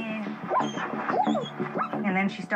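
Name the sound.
dog whimpering in a 4x4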